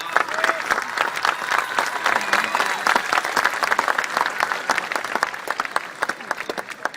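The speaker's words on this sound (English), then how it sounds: "Give them one last round of applause." Audience applause at a middle school graduation ceremony, a steady, dense wash of many hands clapping that holds throughout with some crowd noise mixed in.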